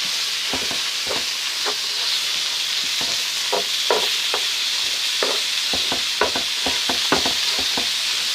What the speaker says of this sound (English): Whoa, listen to it sizzle.